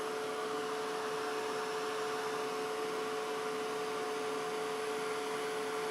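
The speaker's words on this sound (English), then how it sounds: "I'm just going to heat set it so that you can see some results really quickly" Heat tool blowing steadily to heat-set Glimmer Mist on paper, a constant loud whooshing hum with a fixed motor whine, unbroken and with no talking.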